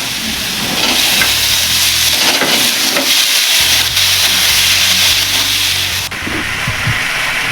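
Tomatoes added to a pan of frying chicken liver and gizzard, a loud steady hiss of steam and sizzle with a low rumble, one abrupt shift partway through, no voices.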